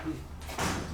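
Doors of a 1966 Otis hydraulic freight elevator at a shopping mall closing, a brief rumbling slide that swells in the second half of a short, fairly quiet moment.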